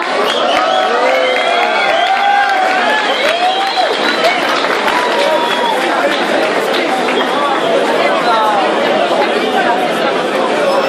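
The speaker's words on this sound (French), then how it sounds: "on les applaudit encore une fois" Audience at the 27th Derby de la Meije podium ceremony applauding and cheering in a dense, steady wash of clapping and crowd chatter, with scattered shouts and voices mixed in throughout.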